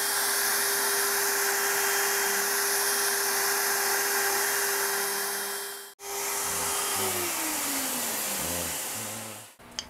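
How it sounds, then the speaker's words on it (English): A shop vacuum drones loudly and steadily nearby while a guitar neck pocket is routed, its steady whine cutting out briefly then returning and dropping in pitch, with a sharp click at the end. "Let me turn the vacuum on. Let's get this neck pocket cut."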